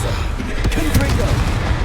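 A Confringo fire spell blasts in the Hogwarts Legacy video game, part of a dense, loud barrage of booming spell impacts and combat noise that fills the whole moment.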